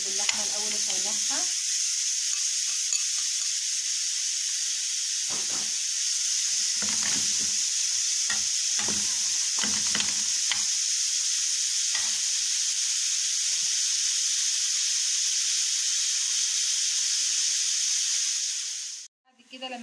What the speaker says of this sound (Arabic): انا بنزل باللحمة الاول اشوحها